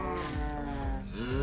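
Minecraft cows moo in a Bedrock Edition automatic cow farm, overlapping drawn-out synthetic lowing calls from several animals, fairly close and steady, with no speech.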